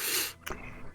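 A single sharp, sudden burst of breath, like a quick stifled sneeze, cuts through quiet background noise.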